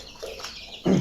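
Broiler roosters over 30 days old on a poultry farm, with one loud, close cluck near the end after a quiet stretch of low barn background.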